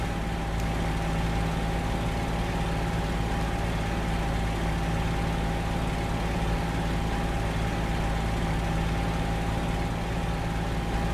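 A P-40E-1 fighter's engine idles at low throttle as the aircraft taxis in the Il-2 combat flight sim, a steady close-up drone with a constant low hum and a fixed tonal whine, unbroken for the whole stretch.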